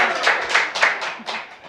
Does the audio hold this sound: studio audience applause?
yes